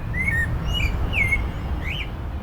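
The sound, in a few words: birds singing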